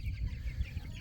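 Chicks on pasture give soft, low clucks in a short, dense murmur close by, with no voices.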